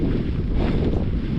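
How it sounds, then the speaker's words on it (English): Strong, steady wind buffeting the microphone on the Laugavegur hiking trail in Iceland, a dense continuous low roar with no pauses and no voices. "The only thing today is not quite as windy, but it is windy."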